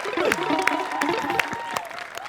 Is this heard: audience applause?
yes